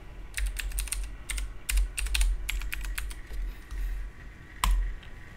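Someone types a password on a computer keyboard, producing quick clusters of crisp key clicks with short pauses between, close and fairly loud against a quiet background.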